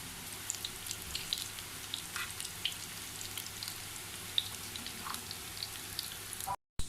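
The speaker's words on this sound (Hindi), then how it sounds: "मैंने इन्हें फ्राई कर लिया है, दोनों साइड से कलर आ चुका है।" Colocasia leaves frying in a pan with oil in a home kitchen, a steady soft sizzle with scattered tiny pops and crackles, close up and alone, cutting off abruptly near the end.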